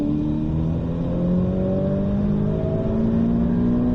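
A race car engine revs steadily and continuously on the Circuit de Bresse track, its pitch climbing as it accelerates, loud and close with no talking.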